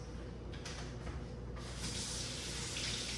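Tap water runs steadily over carrots being rinsed at a kitchen sink, a continuous soft hiss with faint handling clatter early on, growing slightly fuller toward the end.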